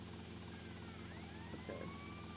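A helicopter in the Grand Theft Auto: Vice City video game drones steadily with a sustained rotor and engine hum, while rising whistling tones sweep upward briefly, all without speech.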